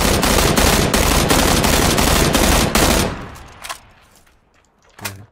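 Sustained automatic gunfire in the PUBG video game, a dense rapid burst lasting about three seconds, loud and close, then fading to quiet with a couple of isolated distant shots.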